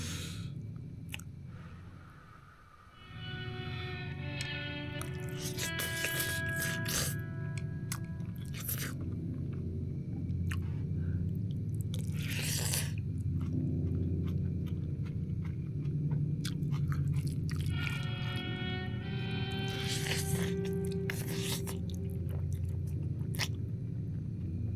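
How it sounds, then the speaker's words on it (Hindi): Someone bites into and chews food outdoors in freezing cold around -10 degrees, with close, steady crunchy mastication running throughout and bursts of wet, crisp bites standing out. "Let's have a huge bite."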